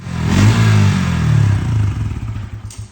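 A Bajaj Pulsar N160 motorcycle with a fault that keeps it from holding idle runs loudly up close, its engine rumbling and sagging unevenly before it sputters and dies.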